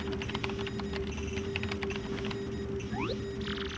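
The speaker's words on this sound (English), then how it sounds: "Use the keyboard in front of you. Enter the recipient address and message." Clicky keyboard typing in the Paper Mario: The Thousand-Year Door video game, a quick run of small key taps over a steady electronic hum, then a couple of rising synth blips.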